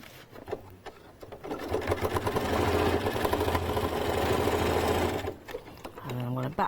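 A sewing machine runs steadily for several seconds, stitching a straight seam across fabric, with a brief pause and restart near the start; someone speaks briefly at the end as the motor stops.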